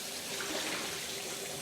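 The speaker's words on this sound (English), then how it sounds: "I'm just going to run a little bit of cool water over them just to stop the cooking" Cool tap water runs over drained potatoes, a steady close hiss of pouring and splashing that holds even for a second and a half with no voices.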